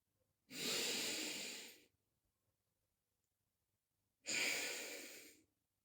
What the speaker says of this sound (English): you're going to take another breath in from your nose, and you're going to release the breath from your nose